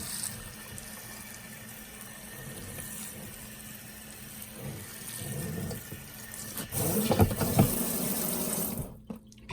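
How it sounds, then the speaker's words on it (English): Water running from a tap or hose onto microgreen seed trays, a continuous hiss and splash that swells louder near the end before cutting off abruptly. "I'm just going to go and water these now."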